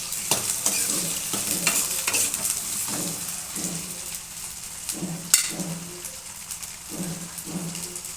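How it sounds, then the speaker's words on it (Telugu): Potatoes fry in a pan for a mixed potato and eggplant curry. A continuous sizzle runs under a series of rhythmic stirring scrapes, with one sharper clank partway through and a faint voice in the background. "ఆలు కొంచెం ఫ్రై కావాలి"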